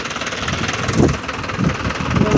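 A tractor engine runs close by with a rough, knocking mid-pitched rumble that pulses unevenly over a couple of seconds.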